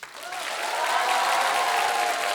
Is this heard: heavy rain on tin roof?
no